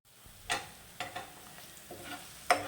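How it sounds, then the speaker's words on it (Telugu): Ginger paste frying in a pan and being stirred, soft intermittent scraping strokes and light sizzle in a quiet room, several separate stirs spaced about half a second apart. "పచ్చి వాసన పోయే వరకు కొద్దిసేపు వేయించుకుందామండి"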